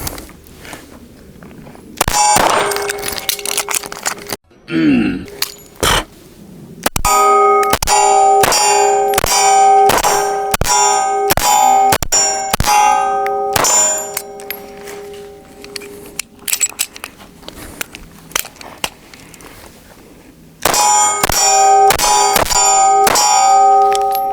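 A Sig P365 pistol fires in rapid strings of shots at steel targets, each report answered by a bright ringing clang. There are three long volleys with short gaps between them, loud and close.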